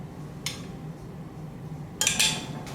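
Clinks and rattles of a small pepper container being handled in a home kitchen while measuring half a teaspoon of pepper, one light tap early, then a cluster of sharper metallic clinks near the end, close and alone.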